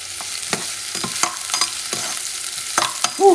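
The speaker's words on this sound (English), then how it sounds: "And I'm going to saute this onion." A quarter of an onion sautéing in a pan for a spicy beef stew, with a steady sizzle broken by repeated scraping stir strokes and a brief clatter near the end.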